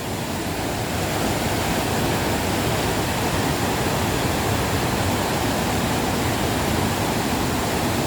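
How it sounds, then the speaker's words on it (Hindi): Rushing mountain water in Uttarakhand near Chakrata, flowing so fast it throws up mist, makes a steady, loud broadband roar that holds without a break throughout. "यहाँ से भी पानी आ रहा है।"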